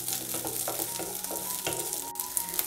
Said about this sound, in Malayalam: ഉള്ളിയൊക്കെ ചേർത്ത് കൊടുത്തിട്ട് ചെറിയ രീതിയിലൊന്ന് വഴറ്റി കൊടുക്കാം